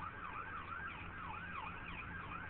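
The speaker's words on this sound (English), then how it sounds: "That's an ambulance or something." An ambulance siren wails steadily in a rising-and-falling pattern at a truck stop trailer fire in Katy, Texas, fairly loud and continuous with no voices over it.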